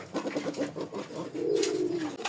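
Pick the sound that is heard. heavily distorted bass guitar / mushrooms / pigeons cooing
pigeons cooing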